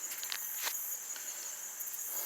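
Crickets hidden under rocks give a faint, steady high-pitched trill with a few light rustles, and no voices.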